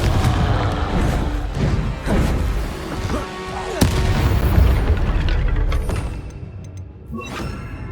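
A Confringo fire spell explodes in the Hogwarts Legacy video game, a loud booming blast with crackling debris that rumbles on for several seconds before fading.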